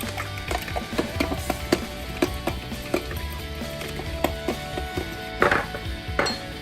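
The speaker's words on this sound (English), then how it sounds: "Here we're just mixing the eggs and the milk." Eggs and milk are whisked together in a bowl for a fried pork loin batter, giving a steady run of quick clinks and taps against the bowl, fairly close, with kitchen clatter around.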